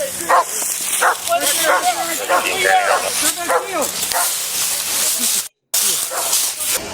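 A police dog barks repeatedly and loudly close by during a tense armed standoff, its barks mixed with shouting voices and hissing noise.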